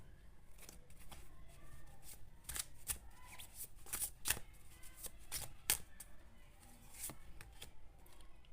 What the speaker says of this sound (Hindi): अब मैं आपके लिए इस सिचुएशन में थोड़े से करंट फीलिंग्स के कार्ड निकालूंगी